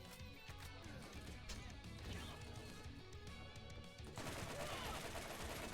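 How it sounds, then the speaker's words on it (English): Sustained automatic gunfire from a modded gun in a video game, dense rapid shots blending into a continuous roar over game music, growing louder toward the end. "Burst fire while zoomed."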